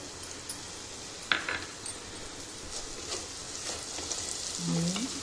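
Chili powder, garam masala and coriander powder with tomato frying in a pan for Maharashtrian dal khichdi, a soft steady sizzle with a few light clinks of a spoon against the pan.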